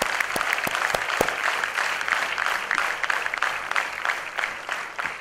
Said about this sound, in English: So a big round of applause to yourself